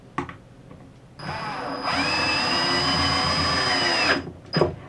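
A power drill whirs close up for about three seconds, its motor whine rising and settling as it pre-drills screw holes in wood for a plant stand.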